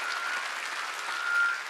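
A church congregation claps together in steady, even applause during a Sunday worship service, a dense wash of hand claps without pause.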